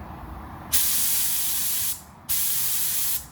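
Two long bursts of a paint spray gun hissing while painting a car, each lasting about a second, separated by a short pause, close and fairly loud.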